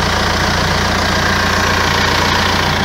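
Renault Espace 4 engine idling steadily to warm up, a continuous low rumble with even mechanical ticking, close and loud, no voices.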